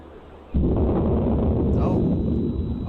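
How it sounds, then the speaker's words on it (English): A distant explosion from a strike in Beirut, a sudden deep low rumble that swells and lingers for a few seconds, heard from afar. "Another explosion in Beirut just now"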